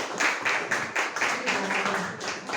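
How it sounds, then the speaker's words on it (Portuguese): An audience at a solemn ceremony for the State Poet-Troubadour Day in Espírito Santo gives a speaker steady, moderately loud applause, with a faint voice underneath. "Vamos receber uma salva de palmas, por favor."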